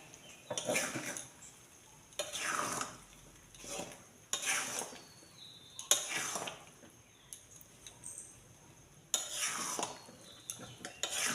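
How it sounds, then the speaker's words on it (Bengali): A spoon stirring jaggery into jujube (kul) pickle in a pan, several distinct scraping strokes of metal against the pan at irregular intervals with quiet pauses between, no talking. "দিয়ে দেওয়ার পরে দেখো আমি এবার নাড়াচাড়া করতে থাকবো"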